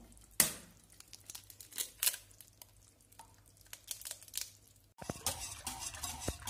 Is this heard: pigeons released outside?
no